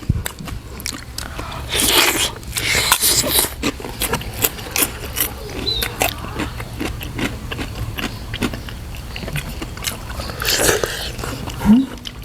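Someone eats crunchy fresh shrimp with spicy papaya salad and rice noodles. Repeated close, sharp crunching bites and chewing continue throughout in a busy, uneven rhythm.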